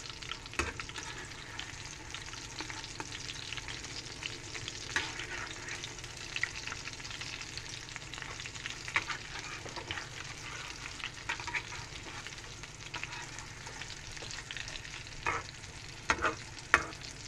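Tortang dilis, an anchovy omelette, frying steadily in a pan with a constant crackling sizzle, a few sharper scrapes and knocks as it is flipped, quiet and unbroken by talk.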